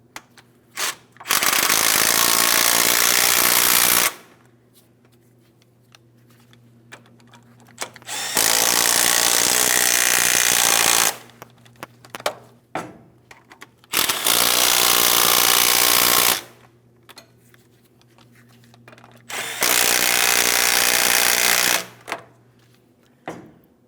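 An impact gun snugs up the steering knuckle bolts on a 2007-2014 GMC Sierra 2500 HD in four loud, close bursts of rattling hammering, each lasting a few seconds, separated by quieter pauses with small clanks.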